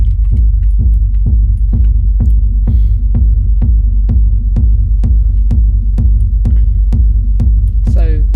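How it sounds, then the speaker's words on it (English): A loud, aggressive techno kick drum thumps in a steady four-on-the-floor pulse with a heavy sustained low rumble underneath, saturated by overdrive, playing alone with a brief sweep near the end. "I'm going to start with the kick drum first though. So here's how it sounds."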